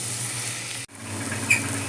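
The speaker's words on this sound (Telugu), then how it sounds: "ఉల్లిపాయ చాలా మటుకు మంచిగా ఫ్రై అయిపోయింది" Onions frying for a chicken keema gravy, a continuous close sizzle and hiss briefly cut off by a short gap, then resuming with a faint squeak.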